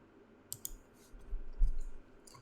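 A computer mouse clicks a few times while working in FreeCAD, sharp soft clicks close by, two quick ones followed by a couple more over faint background hum.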